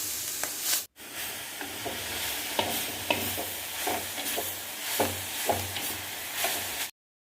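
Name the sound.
stirring line keerai greens with tempered onion in pan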